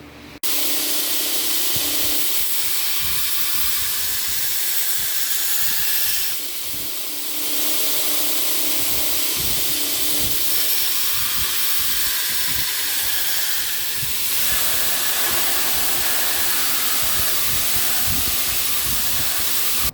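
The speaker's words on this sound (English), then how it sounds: "I'm going to start grinding out the bevel so we can heat treat." A copper Damascus hunting knife gets its bevel ground, a steady, loud abrasive hiss running continuously for the whole stretch with slight dips in intensity as the blade is worked.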